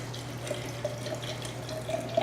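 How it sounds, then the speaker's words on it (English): Apple cider vinegar pours steadily over herbs in a jar, a soft continuous trickle with a few faint drips and splashes near its end. No one speaks. "I'm just going to pour apple cider vinegar over it."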